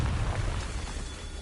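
Confringo fire blast spell in Hogwarts Legacy, a deep rumbling boom with a crackling burst that holds steady and loud across the short moment, with no voice over it.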